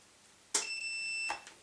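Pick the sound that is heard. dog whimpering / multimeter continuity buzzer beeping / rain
multimeter continuity buzzer beeping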